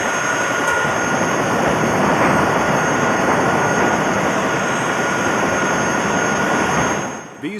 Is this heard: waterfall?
no